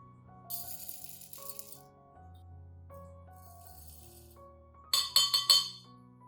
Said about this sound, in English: Add 3 tablespoons of rice to a clean glass cup.